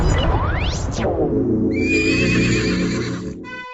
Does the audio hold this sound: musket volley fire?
no